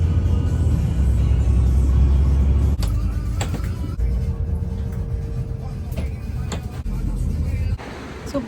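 Inside a moving bus, a deep continuous rumble of the engine and road fills the cabin, broken by a few rattles and clunks, and the drone drops lower near the end.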